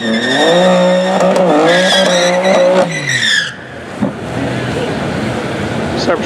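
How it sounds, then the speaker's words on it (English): Drag race on a quarter-mile strip between a Tesla Cybertruck and a tuned BMW: a loud, close engine revs and wavers in pitch with tire squeal, then cuts off, leaving rumbling crowd ambience with faint voices. "CyberTruck's going against this BMW that sounds pretty hot"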